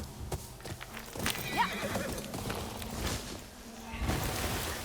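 Horse in the video game Ghost of Yotei neighing and whinnying amid clip-clopping hooves, moderately loud with game noise around it.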